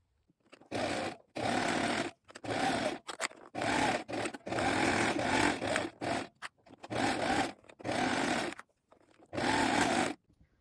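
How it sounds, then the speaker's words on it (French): Serger overlocking the seam allowance of a pair of shorts, running in about eight close bursts of steady mechanical whirring separated by short pauses, with no talking. "Puis vous allez surjeter."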